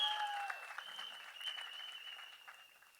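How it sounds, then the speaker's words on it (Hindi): Audience applause at a film trailer launch event fills the whole stretch as a steady wash of clapping, starting strong and slowly fading, with a high tone briefly sounding at the start. "तालियां बजाइए अपने भारत के लिए।"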